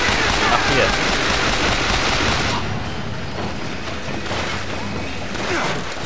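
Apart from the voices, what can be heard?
gunfire in the video game Bioshock Infinite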